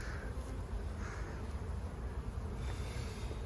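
Honeybees at an open hive make a dense, continuous buzz that stays close and steady throughout, with no talking.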